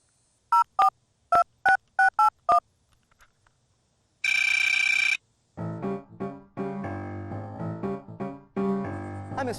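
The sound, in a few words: telephone dialing and ringing to call a company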